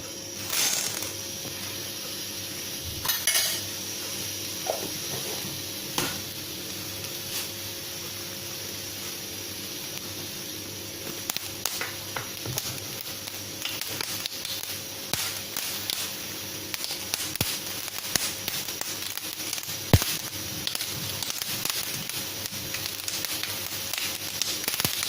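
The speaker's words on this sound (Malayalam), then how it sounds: "കടുകിട്ട് പൊട്ടിക്കാം" Mustard seeds pop in hot coconut oil in a pan for cabbage thoran, a sparse run of sharp crackles and snaps over a low steady hiss that grows busier as the seconds pass.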